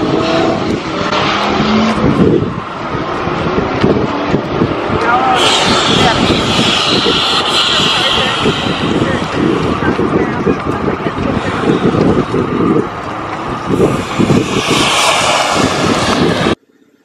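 A 2019 Procharged car roars at a drag strip, a loud sustained supercharged engine rev with rising pitch lasting most of the stretch, captured from nearby before cutting off abruptly at the end.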